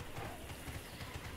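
Horses galloping in the online game Tera, a steady rhythmic run of clip-clop hoofbeats close by, continuous and fairly even over a low rumbling bed, with no voices.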